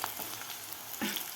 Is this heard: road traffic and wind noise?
no